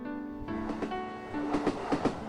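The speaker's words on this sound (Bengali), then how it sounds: "একটার পর একটা স্টেশন ফেলে ট্রেনটা এগিয়ে যাচ্ছে" A moving passenger train rumbles along at night with rhythmic clattering of wheels over rail joints, steady and fairly faint, with no voices.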